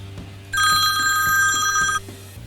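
A telephone rings close by with a bright electronic trill, one sustained burst of ringing over a low background hum before it stops.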